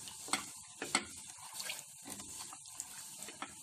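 Milk with powdered milk and sugar is stirred in a pan, producing soft, irregular liquid swishes and light scrapes close by, quiet and uneven with no speech.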